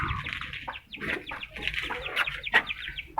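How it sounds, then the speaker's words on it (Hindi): Busy clucking from nearby chickens, a steady run of short chirpy calls and murmurs with a sharper peep near the end. "ये है मुर्गी"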